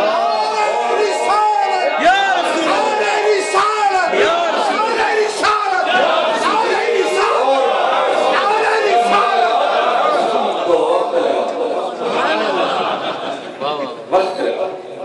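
A crowd at a devotional religious gathering in Bradford loudly chants religious slogans, many voices blending into a dense, sustained roar that holds for the whole stretch with brief surges and lulls.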